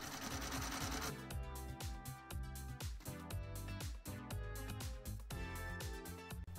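A computerized embroidery machine sews a fabric placement stitch for free-standing lace, giving a fast, steady mechanical rhythm of needle strikes close up after a brief whirring start.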